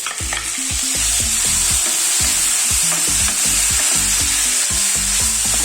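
Cumin seeds and coriander roasting in a hot pan while being stirred, a steady dense sizzle with repeated scraping strokes throughout, close and fairly loud.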